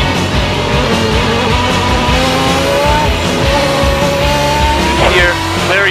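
A race car lapping the Estoril circuit brakes hard and downshifts. Its loud engine roars and drops in pitch through the gears, close by, with some tire noise, while someone talks over the engine throughout.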